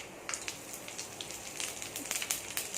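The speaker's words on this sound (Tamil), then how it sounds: "கடுகு நல்லா பொரிஞ்சிருச்சு" Mustard seeds splutter in hot oil while tempering tomato chutney, a faint, continuous crackle of small irregular pops over a soft hiss.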